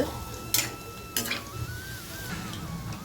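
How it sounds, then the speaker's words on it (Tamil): Oil sizzles softly and steadily as rice bonda fry on a low flame, broken by two brief clatters of a utensil stirring in the pan. "இது கொஞ்சம் சிம்மில் வச்சு தான் நம்ம பொரிக்கணும்"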